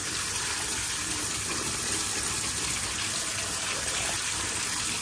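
Water runs in a steady, loud, close gush as boiled sweet chestnuts are rinsed, continuous throughout with no voices.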